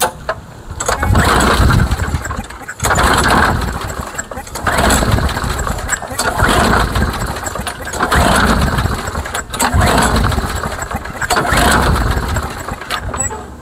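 A lawn mower engine running without its air filter starts and roars loudly close by in rough surging bursts, cutting out briefly every few seconds before catching again.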